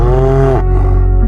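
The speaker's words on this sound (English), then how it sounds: "and one cow called, just once." A single cow moos once in open bush, a loud, long lowing call that drops in pitch partway through and then fades into a lower, rougher tail.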